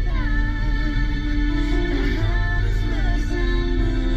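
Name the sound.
audio from Datsun Go's JVC single-DIN car stereo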